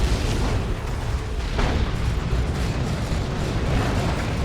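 Orbital bombardment explosions in a Warhammer 40,000: Dawn of War 2 3v3 match, a dense, continuous roar of loud overlapping blasts and rumbling booms sustained for several seconds, with no speech.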